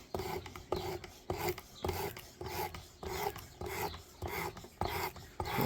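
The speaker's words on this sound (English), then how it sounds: "So this is the 80 stone or 80 grit sanding emery cloth." A folding karambit knife blade, an M&P Extreme Ops, is drawn repeatedly across 80-grit emery cloth on a Work Sharp sharpener. The rasping strokes come in a steady rhythm, about ten close, scratchy passes with short pauses between them and no talk.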